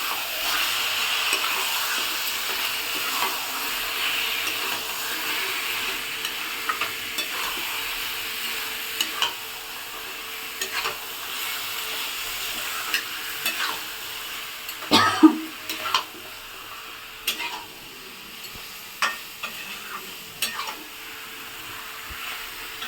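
Mango and yogurt chicken cooking in a pan after a little water is added, giving a soft continuous simmering sizzle with occasional clinks and stirring scrapes, louder knocks around the middle.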